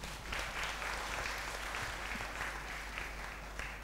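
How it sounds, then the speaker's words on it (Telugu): Loud, steady clapping from a church congregation during a Tuesday Telugu Mass at St Anthony's shrine, Mettuguda, Hyderabad, sustained and dense for several seconds with no break. "గట్టిగా చప్పట్లు కొడదామా?"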